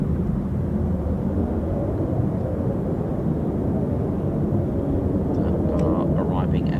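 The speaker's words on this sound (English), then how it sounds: "Arriving F-35s." Arriving F-35 fighter jets at an air force base give a steady, loud low roar across the whole stretch, with talk over it.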